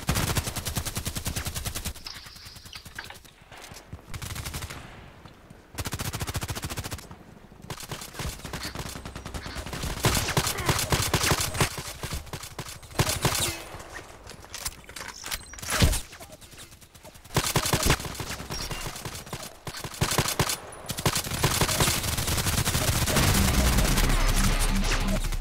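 Heavy gunfire in the video game Contract Wars: rapid automatic bursts and single shots in dense, loud volleys with brief pauses, running almost continuously.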